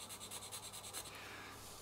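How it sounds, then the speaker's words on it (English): A needle file smoothing the base of a small wooden main post for an OO gauge model yard crane: quiet, rapid rhythmic rubbing strokes, close and faint, fading into a softer continuous scrape. "to trim that down slightly, I'm just going to use a needle file"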